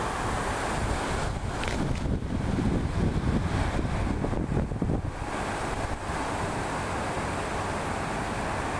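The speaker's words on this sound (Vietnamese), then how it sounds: "Gió bớt lại đi nào." Strong wind roars steadily across an outdoor fishing spot on a cold day, a loud continuous buffeting rush with gusty swells, microphone wind noise and no talking.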